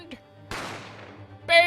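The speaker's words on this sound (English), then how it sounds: "You heard the gunshot, you mean?" A single sharp gunshot blast from the courtroom adventure game The Great Ace Attorney Chronicles, loud and sudden with a decaying tail, set against a steady low game music hum and followed by a brief bright chime.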